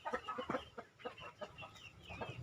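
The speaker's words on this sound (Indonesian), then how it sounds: "jumlah ayam remaja terus bertambah, ini babon muda yang lagi bertelur" Young laying hens cluck in short, repeated bursts at close range, several birds overlapping in an irregular rhythm with no talking.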